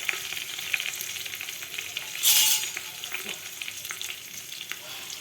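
Curry leaves and dried chillies crackle and sizzle in hot oil for a pepper rasam, a steady fizzing with a sharp louder spit of spattering midway, close and without voices.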